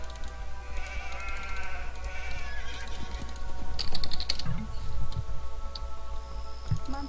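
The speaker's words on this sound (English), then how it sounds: "Sheep." Sheep bleat repeatedly in the Age of Empires II video game, several overlapping bleats with horse-like whinnies over a steady musical drone and faint clicking, with no talk.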